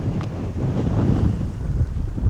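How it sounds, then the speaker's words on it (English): Strong wind of about 30 knots buffets the microphone on an open New Zealand hillside with a heavy, continuous low rumble and gusty roar. "So it's pretty windy. It's probably blowing 30 knots."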